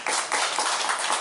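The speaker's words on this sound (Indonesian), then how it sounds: "tepuk tangan buat Pak Megal" A roomful of people at a public dialogue forum gives a steady round of applause, dense and continuous hand clapping filling the space from start to finish with no voices on top.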